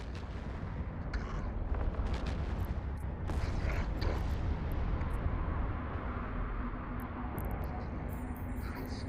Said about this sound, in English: They're using missiles, that's why they're actually able to hit me.